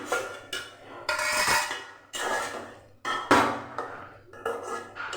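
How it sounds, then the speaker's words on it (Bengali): A metal lid clanks onto a cooking pot of red amaranth stems set to boil, with several sharp clattering knocks and rattles spread over a few seconds and no talking. "ঢাকনা দিয়ে সেদ্ধ করে নেব।"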